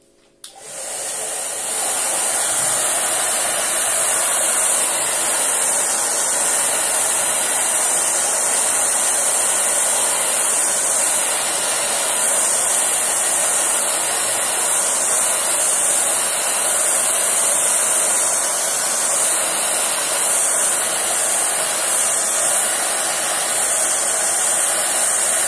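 Hair dryer blowing steadily on a freshly painted watercolour rose, a loud continuous whooshing hiss that starts abruptly and holds unbroken, alone with no talk.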